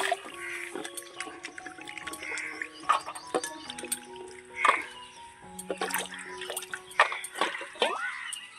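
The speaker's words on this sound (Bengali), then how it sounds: "মাংসটা ভালো করে ধুয়ে নি।" Raw mutton rib pieces being washed by hand in water, with drips, trickles and small splashes coming in irregular bursts close by, plus light clinks in the background.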